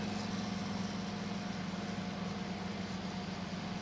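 Tractor engine revving with the PTO engaged in Farming Simulator 19, a steady loud low drone with a constant hum that holds throughout, with no talking.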